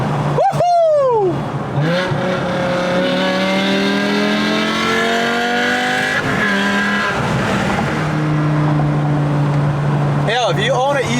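A BMW E60 M5 with upgraded Infinity Design headers revs hard and screams up through rising, high-pitched engine wails and downshifts, loud and close, with a brief shout at the start.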